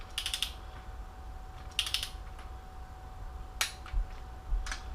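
A ratchet wrench clicks in short bursts while torquing engine bolts during a rebuild of a 3.7L V6 from a 2006 Jeep Grand Cherokee Laredo, with a few separate clicking passes over a quiet shop hum.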